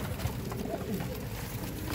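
Pigeons coo softly in low, murmuring calls amid faint background noise, heard close within a loft of fancy breed birds.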